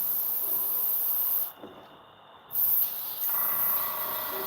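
An airbrush being cleaned blows water out in a steady hiss, cutting off briefly for about a second before the spray resumes at full strength.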